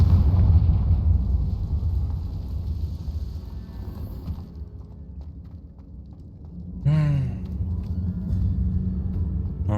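Confringo fire spell detonating in the Hogwarts Legacy game, a heavy low rumbling blast that fades, then a sharp whooshing burst near the seven-second mark followed by a sustained roar.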